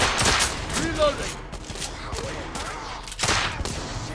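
Pistol gunfire in The Order: 1886, sharp close shots bursting out at the start, around one second and again near three and a quarter seconds, over game noise and background effects.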